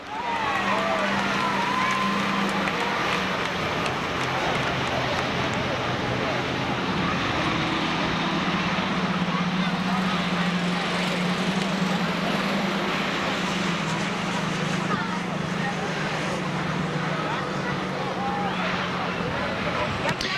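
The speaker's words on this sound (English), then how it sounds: "We have spectator drags with the school buses." School buses drag racing at a speedway give a steady, loud engine drone that holds for about twenty seconds, with a sustained low motor hum and broad roadway noise throughout.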